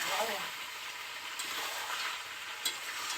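Country chicken curry sizzles as it is stirred and sautéed in an uncovered pan, a steady close frying hiss with soft scraping strokes and a small clink near the end.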